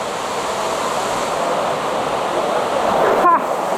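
A waterfall in a canyon river in Santa Catarina, Brazil, gives a loud, steady rushing roar of falling water close by that fills the whole stretch without a break.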